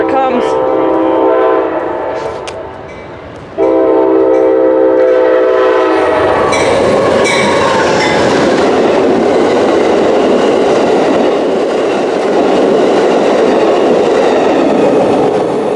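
An Amtrak P029 passenger train in Brunswick, Maryland blows a loud sustained horn up close, then roars past with a heavy, rushing, clattering rumble that fills the rest of the scene.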